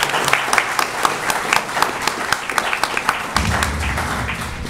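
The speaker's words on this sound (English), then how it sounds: "How about a big round of applause for our panel today?" Audience applause for a panel at a discussion on the Central Florida music scene, a steady patter of many hands clapping at moderate loudness with sharper claps standing out, continuing evenly for several seconds.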